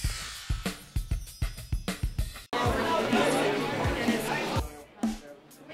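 Crowd gathering at the start of a charity snowmobile ride at Togwotee Mountain Lodge in Wyoming, a run of sharp knocks giving way to a steady murmur of many voices chattering outdoors at moderate distance.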